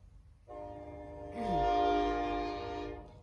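A train horn sounds a sustained, loud multi-tone blast that swells midway and holds to the end, with low rumble beneath and no talk.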